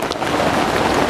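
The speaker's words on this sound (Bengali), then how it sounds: "প্রচুর বৃষ্টি নেমেছে" Heavy rain pours down at a cattle market set up in a 100-foot street market, a dense steady wash of drops that fills the whole short stretch with no voices.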